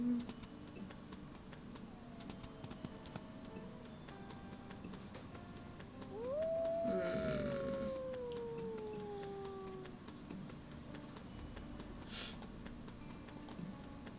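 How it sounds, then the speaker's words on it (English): A wolf in the video game WolfQuest lets out a single drawn-out howl that rises and then slowly falls, faint over a quiet game soundscape with a few soft animal noises. "letting Holly have her little howl of frustration"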